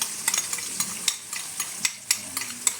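Beaten egg fries in a hot pan, with a soft continuous sizzle and scattered sharp crackles and pops.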